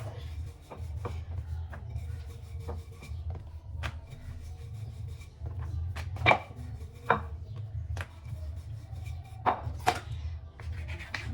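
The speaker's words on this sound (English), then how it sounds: "So I'm going to also cut this one into 4." A knife cuts rolled mandazi dough into pieces on a board, a series of soft, irregular close taps and presses over a low steady background hum.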